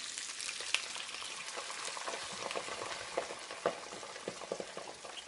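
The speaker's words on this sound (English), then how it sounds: "what I'm going to add next is a can of cider" A can of cider poured into a pot of roast chicken with softened vegetables bubbles and sizzles steadily, with scattered light stirring knocks and pops, fairly quiet and close.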